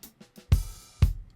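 Two dry Nashville snare drum hits mixed with room sound, about half a second apart, each a loud punchy crack with a short ambient tail, following a few faint softer taps.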